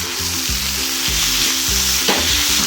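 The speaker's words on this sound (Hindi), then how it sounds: "इसमें अब शामिल करेंगे सब्ज़ मिर्च और टमाटर और इनको भी अच्छी तरह इसमें भून लेंगे" Green chili and tomato fry loudly alongside chicken and bitter gourd in a pan, with a constant close sizzle and intermittent stirring scrapes running through.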